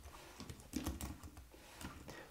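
Rapid typing on a computer keyboard, a quick irregular patter of clicks with some louder keystrokes, close and alone with no talking.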